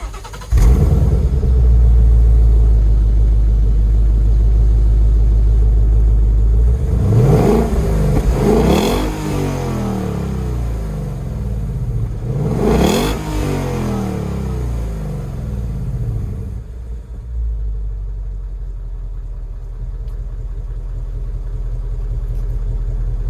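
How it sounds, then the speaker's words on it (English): A stock-exhaust 2016 Ford Mustang GT with the 5.0 V8 fires up loud and close, then is revved twice to near redline in strong sweeping bursts, settling into a deep rumbling idle that fades quieter toward the end. "I revved that up to pretty much redline, just under redline, to give you some example of what the exhaust sounds like"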